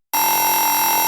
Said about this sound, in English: that's going to create a racing effect